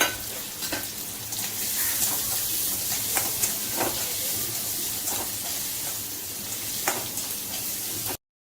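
A constant close sizzle of two finely chopped medium onions sautéing until golden, with intermittent crackles and stir scrapes over the steady frying hiss.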